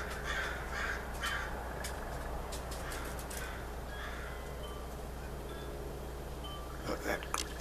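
A crow caws repeatedly in short bursts, some overlapping, at moderate distance over a steady low outdoor hum, with a quick final volley at the end.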